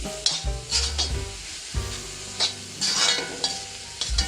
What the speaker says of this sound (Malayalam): പച്ചമുളകും കൂടെ മിക്സ് ചെയ്തത് ഇനി ഇത് നന്നായിട്ട് ഇളക്കി.